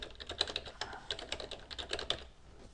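A password is typed on a computer keyboard, a quick irregular run of close, quiet key clicks with short pauses between bursts, and no voice.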